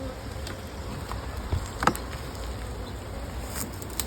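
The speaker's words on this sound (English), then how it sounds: "Nice and full of bees." Honey bees in a full brood chamber buzz continuously at close range, a steady hum with faint clicks and a brief knock of hive equipment, without speech.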